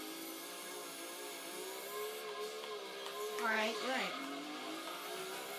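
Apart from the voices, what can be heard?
race car engine in Gran Turismo 2 video game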